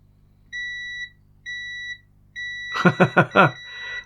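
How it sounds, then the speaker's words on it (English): A multimeter in continuity mode gives three steady electronic beeps in a row while an A500 Mini board is probed for shorts, followed by a brief muffled clatter, close and fairly loud, with no talk. "whilst I've got the multimeter out, let's check for some shorts around here"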